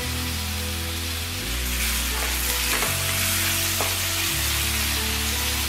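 Curry leaves and salt sauté in hot oil in a pan, giving a steady loud sizzle with crackling pops and occasional stirring scrapes, close and continuous.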